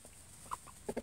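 A few faint, short clucks from pastured free-range chickens, a couple of soft calls then a quick pair near the end, quiet and close in an otherwise hushed setting.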